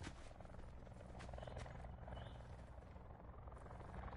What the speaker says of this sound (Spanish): El chopper bajó, el chopper bajó.